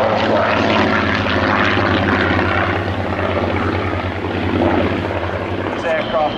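A Spitfire and a Hurricane, RAF Battle of Britain Memorial Flight propeller fighters, pass at the 2016 Royal International Air Tattoo with a loud, steady droning engine roar that holds, then eases slightly near the end.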